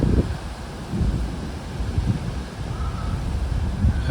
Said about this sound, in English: There's definitely lightning and thunder now.